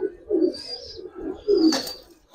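Giribaz pigeons, a female among them, coo in low repeated throaty rolls close by, two bursts with a faint higher chirp over the second.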